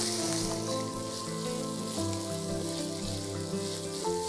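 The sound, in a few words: finely chopped onions sautéing in hot oil in a kadhai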